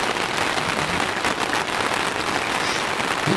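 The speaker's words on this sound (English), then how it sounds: "That's lovely Welsh rain." Steady Welsh rain drums on tent canvas, a dense, continuous patter of close drops at even loudness throughout with no voices.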